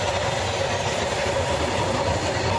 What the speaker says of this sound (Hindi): चारों तरफ ट्रेन दिखाई दे रही है